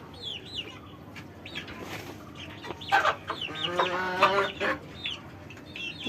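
Chickens of large breeds clucking in a village yard, a run of close, distinct clucks and short calls building toward the middle, alone without talk over a quiet background.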